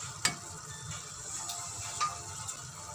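Two medium-size sliced onions sizzle steadily in a hot pan while being stirred, with a few sharp clinks of the utensil against the pan over a quiet, continuous frying hiss.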